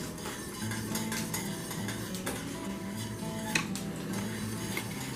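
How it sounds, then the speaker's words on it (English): A hot frying pan full of oil is shifted off a stovetop burner while frying chicken, with soft metallic scrapes and light clinks over a steady kitchen background hum. "I'm moving the hot pan from the burner because I don't want that oil to keep heating up"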